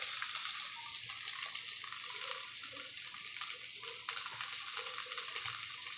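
Mustard seeds splutter in hot oil for a saag dish, a dense crackling sizzle with scattered sharp pops near the pan, steady throughout.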